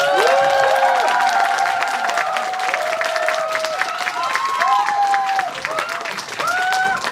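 At a musical's curtain call for We Will Rock You, an audience applauds and cheers steadily. Loud, high shrieks and excited voices rise over the constant clapping.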